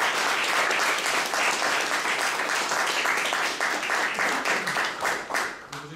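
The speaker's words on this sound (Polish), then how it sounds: "Myślę, że mogę poprosić o gromkie brawa dla naszych kolegów." Loud, sustained applause from a lecture audience honouring the speakers at a talk on the Silesian Uprisings, dense clapping throughout that thins slightly toward the end.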